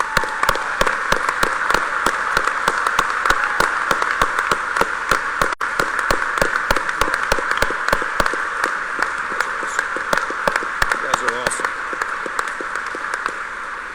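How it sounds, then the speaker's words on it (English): A large crowd at a political rally gives law enforcement a sustained round of applause, the dense clapping staying strong and even for a long stretch without any speech over it. "give our law enforcement heroes a round of applause"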